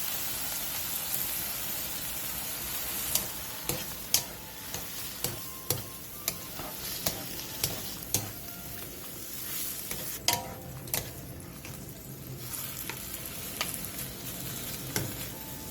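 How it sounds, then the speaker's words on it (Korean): Mushrooms being stirred in a pan with soy sauce, soju, water, oligosaccharide syrup and minced garlic: a soft constant bubbling hiss punctuated by a steady series of sharp utensil clicks and scrapes against the pan. "다진 마늘 1스푼을 넣고 골고루 뒤적여주세요"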